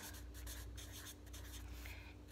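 Pen or pencil writing the word "can" on paper during a classroom-style lesson, a soft, steady scratching that runs continuously at low level with a faint electrical hum beneath.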